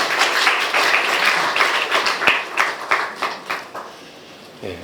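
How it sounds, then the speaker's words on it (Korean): A church congregation applauds to welcome a pastor at a 12th founding anniversary and new sanctuary dedication service. Lively clapping from many hands thins toward the end into scattered individual claps. "우리 박수로 환영하겠습니다."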